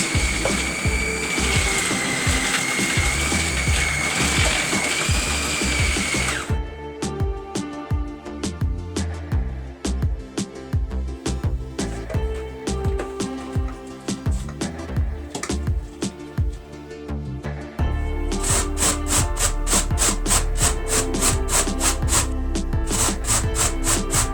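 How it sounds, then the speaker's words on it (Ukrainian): A kitchen food processor shreds cabbage for sauerkraut, its motor whirring loudly with a rattling, chopping texture that shifts between stretches, and a rhythmic buzzing section near the end, close by. "Я використовую кухонний комбайн."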